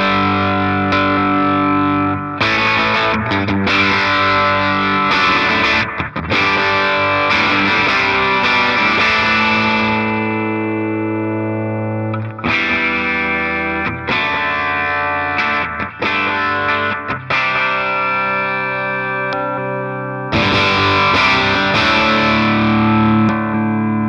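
Electric guitar on its bridge humbucker played through a Jam Pedals Dynassor compressor/sustainer, loud sustained distorted chords and held notes in several phrases separated by brief pauses, with no talking.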